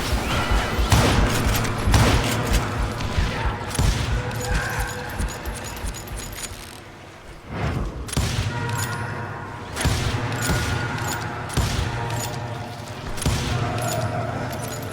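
Repeated gunfire in a Call of Juarez: Gunslinger shootout, with loud sharp shots and booming impacts over a dense, busy game soundtrack, with brief pauses before the firing resumes.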